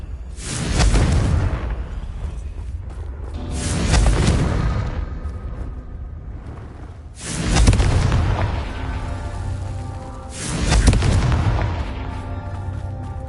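Confringo fire spell explosions in the Hogwarts Legacy video game: four loud, booming blasts about three seconds apart, each bursting sharply and rumbling away with a deep low-end tail.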